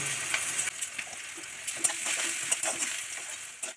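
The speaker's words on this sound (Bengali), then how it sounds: "দেখুন, আমার পেঁয়াজটা বেরেস্তা করে নিয়েছি। এবার এটা আমি গরম তেল থেকে তুলে নেব।" Chopped onions fry in hot oil with a salt sprinkle, a continuous crackling sizzle broken by scattered clicks and scrapes of stirring, close up and without voices.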